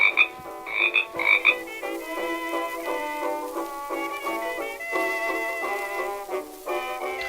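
A frog croaks in a steady run of throaty, rattling calls, loud and close with no voices over it.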